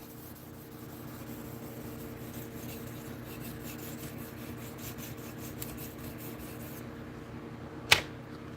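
A blade is drawn across a sharpening surface in a single soft, steady rasping pass lasting several seconds, followed by a brief sharp click near the end, all quiet and close.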